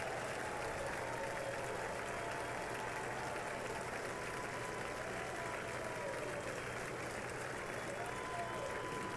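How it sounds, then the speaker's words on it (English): Applause from Democrats in the House chamber as President Biden arrives for the 2024 State of the Union, a distant, muffled wash of clapping running steadily beneath a commentator's voice. "You can see him getting a lot of applause from Democrats in the chamber"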